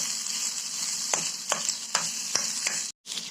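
Boiled potato being stirred with salt in a pan for a fasting meal, a continuous scraping sizzle broken by several distinct spoon scrapes against the pan, close and fairly loud, followed by a brief cut to silence.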